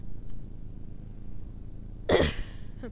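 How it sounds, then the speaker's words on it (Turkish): A short burst of harsh coughing from a gamer playing Half-Life 1, a sudden loud fit near the end of a quiet stretch with faint background game noise. "Gene öksürmeye başladım"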